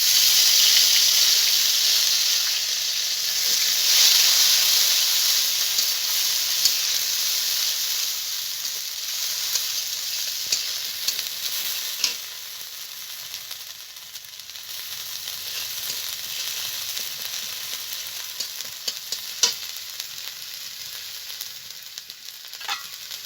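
Ginger paste hitting hot oil in a pan with cumin and chilli, a loud continuous sizzle that slowly settles into softer frying crackle.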